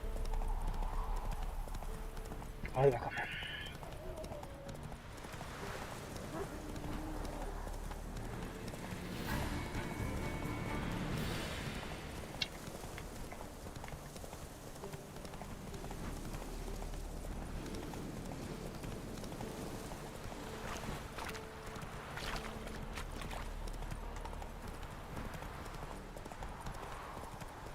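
Hooves of Roach the horse clip-clop steadily in a galloping rhythm through The Witcher 3 game world, moderately faint under a game soundtrack, with a brief spoken line.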